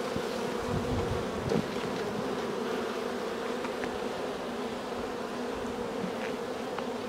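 Very crowded honeybee colony in an open hive, a dense, steady, close buzzing drone that continues throughout with no pauses.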